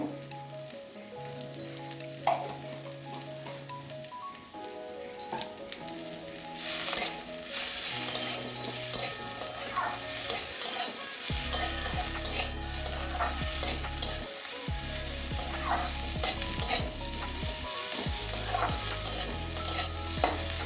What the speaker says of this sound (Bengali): দু মিনিট নাড়িয়ে নেবো ভালো করে তাহলে কালো কালো জিরেটাও ভাজা হয়ে যাবে